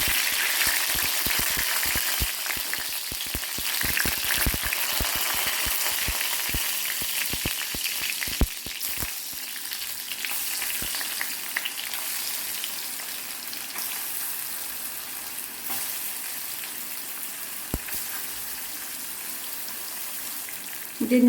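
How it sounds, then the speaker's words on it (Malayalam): Curry leaves hit oil heated for frying fish, setting off a loud, dense crackle that sputters hard early on and then settles into a steady sizzle that runs on without talk. "നമ്മുടെ മീൻ പൊരിക്കാനുള്ള എണ്ണ ചൂടായിട്ടുണ്ട് അപ്പം ഞാനിതിലേക്ക് കുറച്ച് കറിവേപ്പില വെച്ചു"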